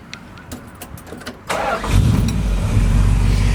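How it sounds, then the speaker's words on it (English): A 1976 Dodge Power Wagon with a fresh 400 two-barrel V8 cranks with clicking starter sounds, then fires up and settles into a loud, steady, deep idle close by, with no talking. "let's start it up and let you hear it run"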